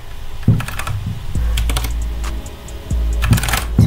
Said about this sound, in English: Then click and type in tags